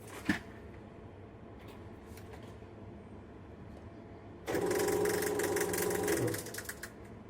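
A film projector's motor starts up: a quiet room hum, then a loud, steady mechanical whirring and rattling kicks in and runs for about two seconds before dropping away.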